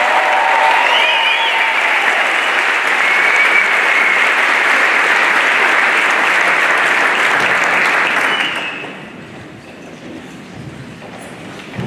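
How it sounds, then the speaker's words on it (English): A school back-to-school kickoff crowd breaks into loud, sustained applause filling a large hall, dense steady clapping that fades down after several seconds. "We give them one big round of applause."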